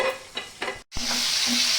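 Pointed gourd (potol) frying in oil, a sizzle with a few scraping stirs, a brief cut to silence, then a brighter, steady hiss of hot oil, no talking.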